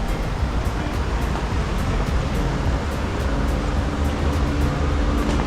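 Water rushes steadily through old sluices on the Dutch South Sea waterworks, a broad continuous roar with no break.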